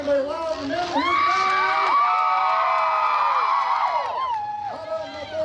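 Spectators at a county fair demolition derby in Baudette, Minnesota, cheer and yell in a sustained, loud roar that builds and holds for several seconds before easing off near the end.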